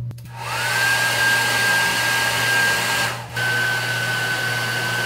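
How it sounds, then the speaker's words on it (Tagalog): A blow dryer switches on and whirs steadily with a high whine, cuts out briefly near the end, then runs on; loud and close, with no talking. "blow dryer."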